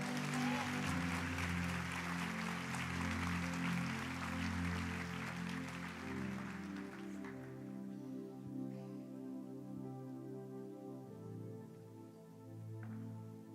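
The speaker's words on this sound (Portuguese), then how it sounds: "Você pode aplaudir ao Senhor pela vida da Rai?" A church congregation applauds in praise at a Sunday morning service, steady clapping that fades out after several seconds while sustained organ or keyboard tones carry on underneath.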